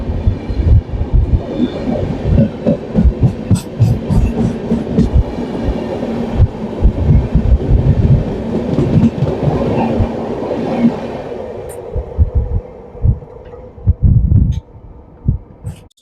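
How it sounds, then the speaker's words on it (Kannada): The 20415 Kashi Mahakal Superfast Express, running from Varanasi to Indore, rolls past close by with loud rhythmic clickety-clack of wheels over rail joints and steady rumble, easing off toward the end. "ಸೊ ಈಗ ಜಸ್ಟ್ ಹೋಗ್ತಲ್ರಿ ಇದ ಟ್ರೈನ್"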